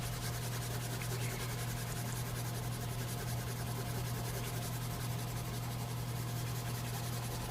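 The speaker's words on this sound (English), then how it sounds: "I'm going to just kind of clean up a lot of the, like I said, pencil lines that I left." A mechanical pencil's eraser rubs over paper to clear pencil lines on a coyote skull drawing, a quiet continuous scratchy friction under a steady low hum, without pauses or talk.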